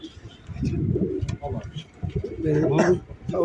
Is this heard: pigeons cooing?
yes